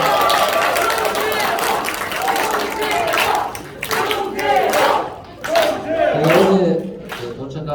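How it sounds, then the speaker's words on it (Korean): A crowd at a Korean political gathering applauds and cheers loudly, with dense clapping under excited shouts and whoops from many voices that swell and fade in waves. "격려 박수 한번 부탁드립니다."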